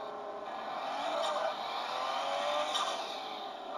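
Simulated car engine revving in the drift game Real Drift, a steady synthetic whine that swells and eases slightly, fairly quiet and continuous with a faint high tone above it and no voices.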